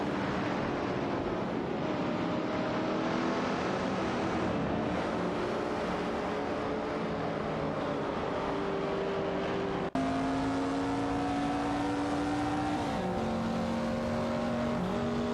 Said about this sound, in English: Hope you're ready for some exciting AI race car action.